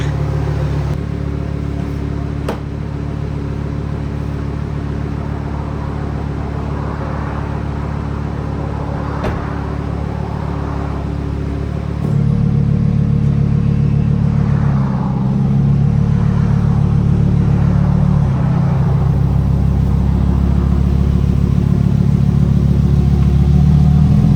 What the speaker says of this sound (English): She's idled down. Big difference in the way it sounds.